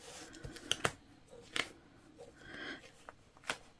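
Seam ripper snipping basting stitches in English paper piecing: a few sharp, faint clicks and snips scattered close by over quiet room noise.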